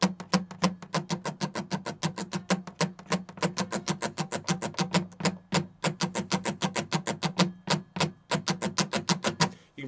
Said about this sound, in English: after you go down, up, down, you accent the next up and then the following up